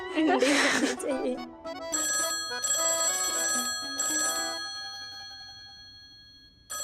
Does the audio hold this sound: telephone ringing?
yes